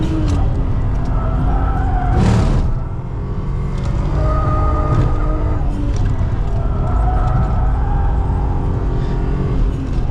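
A BMW M3 E36 is driven at the limit on a race circuit, its engine roaring loudly with rising and falling revs, with a short burst of tyre noise as the car slides.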